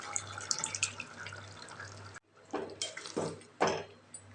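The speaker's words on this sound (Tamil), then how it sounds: "வேக வச்ச பருப்பு தண்ணி ஊற்றிக்கலாம்." Cooked dal water is poured into a pot of simmering tamarind water, giving soft splashing and gurgling bursts that come in several short pours over a low steady hum.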